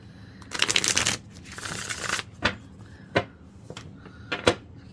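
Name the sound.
shuffling tarot cards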